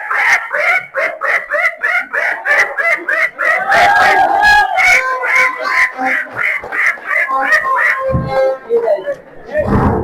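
A person imitates a duckling's call with a rapid series of high, shrill peeping calls in quick bursts, loud and close, breaking briefly near the end.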